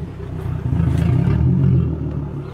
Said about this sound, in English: That's traffic.